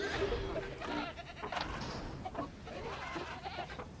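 Goats in the video game Jurassic World Evolution bleat and make clucking, chicken-like calls, several short nasal cries and clucks in quick bursts over a faint ambient bed.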